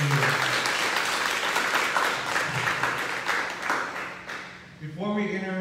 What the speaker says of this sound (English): Please give him a big round of applause one more time for being here.